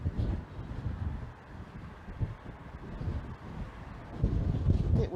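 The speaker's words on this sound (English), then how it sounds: "Bit windy." Wind gusting outdoors in the Scottish Highlands, buffeting the microphone in uneven rumbling bursts that swell louder near the end, with no one speaking.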